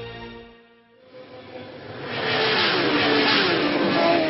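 Racing motorcycles on the Isle of Man road course: an engine note builds from a quiet, tonal hum into a loud, rising roar as machines speed past, swelling and staying strong at the end.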